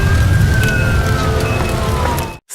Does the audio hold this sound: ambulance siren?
yes